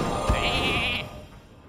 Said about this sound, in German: Wir verwandeln ihn aber noch in Schaf.